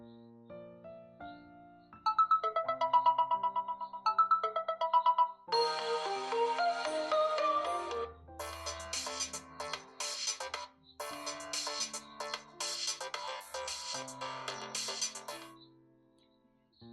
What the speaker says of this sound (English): You can see all pre-installed ringing tones in here.